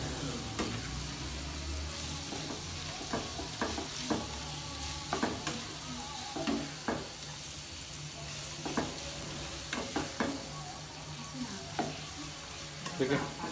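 Daal mash sizzles in a pan over a medium flame under steady frying hiss, with repeated scraping clicks as the mixture is stirred and mixed.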